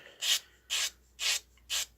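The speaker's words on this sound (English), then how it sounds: "let the sander do the work. Let the sanding stick do the work." Four even, rhythmic scrapes of a sanding stick rubbing back and forth across a model airplane fuselage edge, close and clear with short pauses between strokes.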